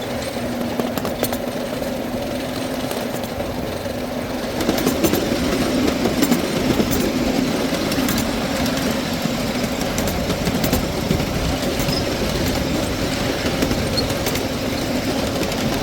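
A live steam miniature train runs at night on a riding line, with a steady mechanical rumble and faint rail clicks that grow louder partway through and continue evenly.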